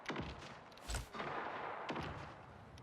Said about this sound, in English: In the distance, there's gunfire.